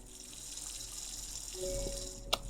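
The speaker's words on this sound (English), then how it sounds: "I could kind of water the plants, though I can't tell how much I need to water them." Plants are watered in the video game Strange Horticulture, with a soft running-water pour that swells midway and ends in a brief sharp splash or click, quiet and without talk.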